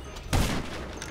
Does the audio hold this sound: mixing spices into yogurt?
no